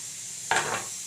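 A short burst of stirring and scraping in a pan of frying meat over a low, steady sizzle, close by and alone.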